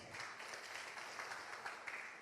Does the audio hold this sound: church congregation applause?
yes